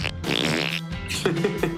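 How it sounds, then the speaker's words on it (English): A fart noise sound effect blurts out loudly, starting as a long flappy buzz and ending in several short sputtering pops, heard alone without talk. "It's a fart noise."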